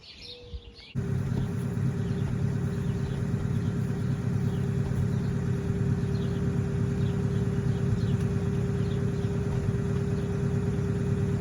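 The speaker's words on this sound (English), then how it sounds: "Car's been sitting here idling for about 5 minutes while I've been grabbing jugs of water." A flathead Ford car engine idles steadily and close by, a constant low rumble with a faint hum that runs without pause. Faint bird chirps sit in the background, and no one speaks.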